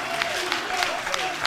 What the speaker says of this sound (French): Je demande à l'assistance d'applaudir pour lui.